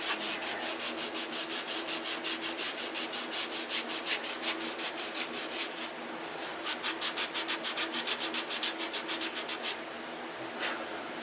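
Rhythmic back-and-forth sanding strokes on a fillet, steady and close, roughly two strokes per second with a brief pause near the middle, humid room setting, no talking.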